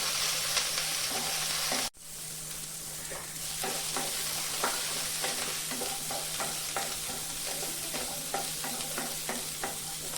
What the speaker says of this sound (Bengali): কাঁচা লঙ্কা, কাজু, আদা, রসুন একসাথে ভেজে নেব।